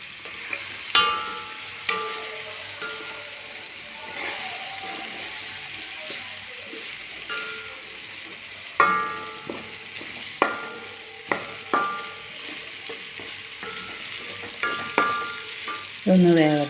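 Snake gourd thoran with grated coconut cooking slowly in coconut oil, with no water added: a steady soft sizzle broken by repeated stirring scrapes and clatters of a spoon against the pan, close and fairly quiet, with no talk.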